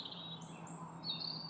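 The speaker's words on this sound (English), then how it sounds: "It's so peaceful here, just sitting outside and hearing the birds." Small birds chirp and twitter outside a treehouse in winter, a few bright, high calls rising over a soft, steady background, faint and somewhat distant.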